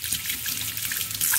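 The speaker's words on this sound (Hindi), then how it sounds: "इसको थोड़ा रिंस कर देते हैं यहाँ पे" Tap water runs into a sink while a utensil is rinsed, a close, steady splashing stream with small clinks and drips.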